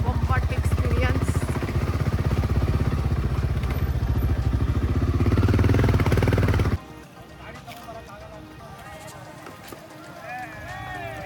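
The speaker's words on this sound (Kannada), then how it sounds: "ನಾವೆಲ್ಲ ಬೈಕಲ್ಲಿ ಬರ್ತಾ ಇದ್ದೀವಿ. Full of road." Motorcycles ridden off-road on a rough route toward Ermai Falls, with a loud, dense engine drone and voices for about seven seconds before it abruptly drops to a quieter outdoor background.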